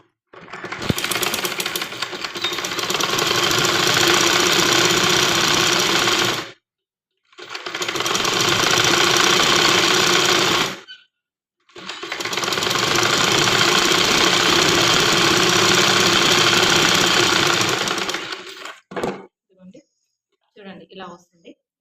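An electric sewing machine stitching a small girl's frock runs in three long, loud, steady bursts with short pauses between them. A few quieter clicks and handling sounds follow at the end.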